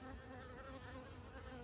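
Guard bees buzz steadily at the hive entrance, a close, continuous droning hum with no pauses through the short stretch.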